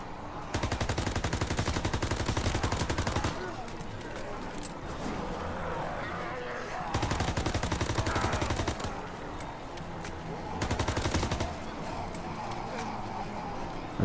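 Weaker gun fired in COD WW2 Nazi Zombies on the Final Reich map, rapid automatic bursts of several seconds each, repeated three times with short gaps, fairly faint under game ambience.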